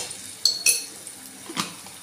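Ginger garlic paste being stirred into a cooking pan with a metal spoon, several light clinks and scrapes against the pan over a soft background, close and without talking.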